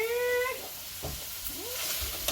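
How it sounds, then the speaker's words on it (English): Fathead pizza dough with melted cream cheese being stirred in a bowl, a soft scraping and squelching that runs steadily and close, with a brief whine early on and no talking. "Alright, stir that together"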